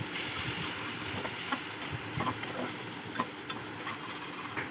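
Spices for ghugni, a pea curry, fry in a pan with a soft, continuous sizzle, broken by light scraping taps as they are stirred, close but quiet.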